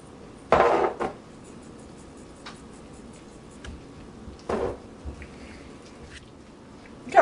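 Spinach quiche egg mixture being stirred in a bowl, heard as a couple of sharp clinks of utensil on bowl, with a few fainter taps between them over a quiet background.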